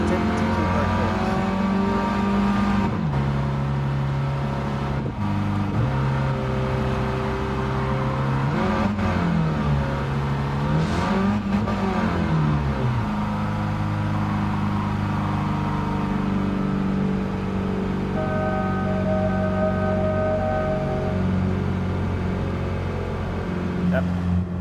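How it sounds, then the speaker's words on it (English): A car engine in Gran Turismo 7, a standard unmodified engine of 72 brake horsepower, drones and revs steadily and loudly, its pitch rising and falling as it shifts gears, with a voice talking over it. "this is what the engine is like, just standard"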